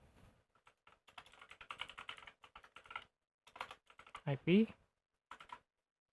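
Bursts of typing on a computer keyboard while entering an IP address for a Check Point CloudGuard setup on AWS, quick close clicks in short runs separated by pauses, with a brief voice sound near the end.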